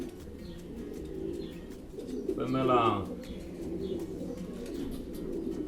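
A racing pigeon in Prahova, Romania, gives one soft, rolling coo at close range, rising briefly above a steady murmur of other birds while someone speaks.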